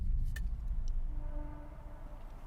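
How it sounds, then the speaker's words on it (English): A train rumbles through the woods at a distance, a low steady roar with faint rising squeals and a few clicks over it, and no voices. "That's just a train."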